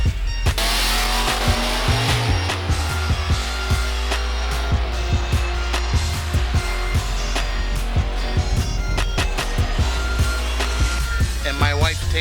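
A 1969 Chevelle drag car with a 522 engine and no nitrous, rated near 970 horsepower, idles loudly with a lumpy rumble and sharp revs at a drag strip. Someone talks over it.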